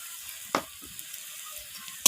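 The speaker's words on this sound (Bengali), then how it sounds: "তো সমস্ত মশলা আমি পেঁয়াজের সাথে এইভাবে নাড়াচাড়া করে কষিয়ে নিচ্ছি" Red chilli powder and cumin powder fry and sizzle with onions in a pan for a cabbage curry with fish head, a steady close hiss broken by sharp clacks of the stirring spoon.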